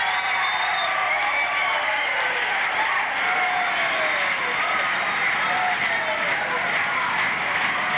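Wrestling arena crowd at a 1980 Portland match cheering for Butch Miller, a continuous loud wash of shouting and cheering voices that holds steady throughout.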